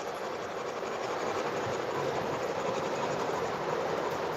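A New York Central Hudson steam locomotive, an MTH Premier Custom Run Mercury model train, runs with a steady, continuous rumble and hiss close by, without any talking.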